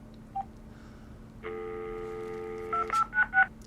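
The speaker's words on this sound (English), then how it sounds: "I'm going to practically dial a number." VTech CS6529-4B cordless handset dialing a number, a steady tone held for over a second followed by a quick run of three or four short keypad beeps, close and clear over a faint background hum.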